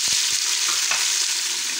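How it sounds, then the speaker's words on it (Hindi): Tomatoes dropped into a pan of frying black peppercorns for aloo methi, with a steady loud sizzle throughout and a few soft clunks as they land and are nudged around. "अब इसके साथ हम यहाँ पर टमाटर डाल देंगे"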